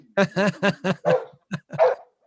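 Dogs barking at a neighbor walking his dog past the house, a close, loud run of about seven rapid barks in a row, heard on their own.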